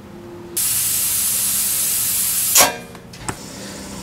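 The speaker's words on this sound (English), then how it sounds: "Now let's inflate it with air and put it back on the ground." Compressed air hisses steadily into a car tire after a slow-leak repair, a sharp continuous rush lasting about two seconds before cutting off with a brief burst, then one short puff.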